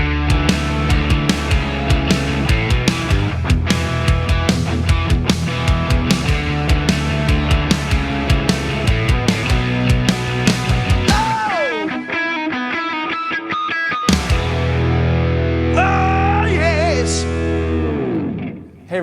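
Electric guitar chords and melodic lines through a Donner Yellow Fall 2 delay and reverb pedal, drenched in echoing repeats and lush reverb, with a brief sparse passage before the full sound returns; no talking.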